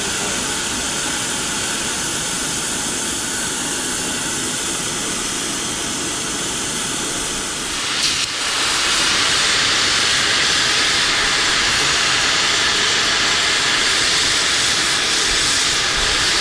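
Gas torch flame heating metal parts from an IH 470 disc, a steady loud roaring hiss throughout that flares brighter and harsher about halfway through, with no voices.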